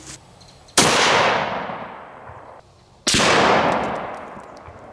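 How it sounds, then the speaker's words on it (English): Two loud, sharp .338 Lapua rifle shots ring out outdoors at a black bowling ball, each a sudden crack followed by a long echoing decay, spaced about two seconds apart. "Now let's shoot the black bowling ball with a 338 Lapua and see if we get a different result."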